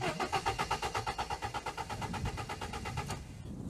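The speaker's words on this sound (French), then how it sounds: "J'essaie de faire un démarrage comme ça." A compact car engine is cranked by the starter in a steady, rapid chugging rhythm for about three seconds without catching, then cuts off into quiet.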